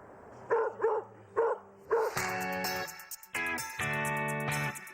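Dogs bark at a Dock Dogs jumping event at an outdoor mountain games festival: several short close barks in a quick series, then a louder tonal yelping bark held over busy background noise.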